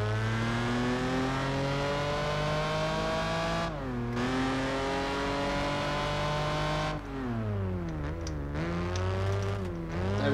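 A car in Project Gotham Racing 4 accelerates hard through a very long first gear, its engine note climbing steadily in pitch, then dropping at brief shifts before revving upward again, loud and close with no talking.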